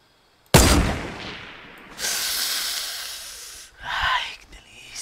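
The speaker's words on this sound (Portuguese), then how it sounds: "Você tá ouvindo tiro então, Kim?" Gunfire in Fortnite: a sharp, loud shot bursts in, then a sustained hissing blast and a later burst, reverberant and partly fading between hits, with no voices over it.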